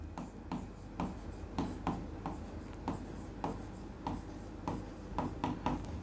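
Chalk or marker strokes on a classroom board while a general knowledge lesson is being written out, with short scratchy bursts in an uneven rhythm, fairly close and moderately quiet.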